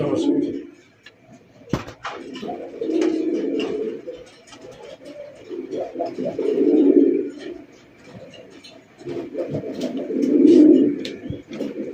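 Pigeons coo in repeated low, throaty bursts at a bird market, several close and fairly loud, with short pauses between calls and scattered wing or cage clatter around them.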